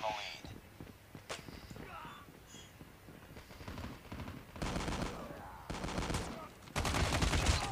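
Rapid bursts of gunfire in a Call of Duty Mobile Kill Confirmed match, with several loud volleys growing denser toward the end over faint footsteps and game ambience.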